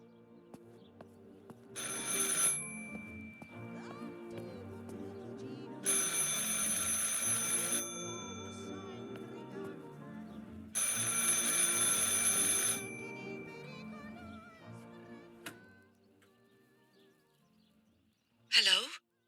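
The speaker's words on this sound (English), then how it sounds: "I should pick up the phone but remain silent." An old telephone bell rings in the Martha Is Dead video game, three long ringing bursts spaced several seconds apart over a quiet ambient background, ending with a short click.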